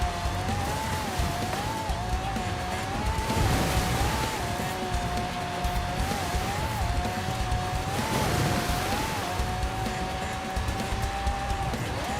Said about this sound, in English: There's no way the actual car, the engine sounds like this.